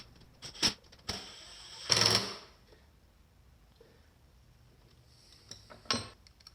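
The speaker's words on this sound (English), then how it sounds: "Just sort of turning the drive gear here and making sure it's not going to bind up or anything like that." The drive gear of a Stihl HS56C hedge trimmer gearbox is turned by hand during repair. Scattered metallic clinks and short rattling bursts sound close by, with quiet gaps between them and no talking.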